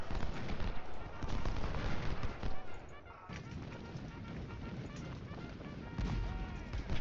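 Musket volleys from Civil War troops in the strategy game Ultimate General: Civil War, dense crackling gunfire rolling continuously at moderate loudness, with a brief lull near the middle.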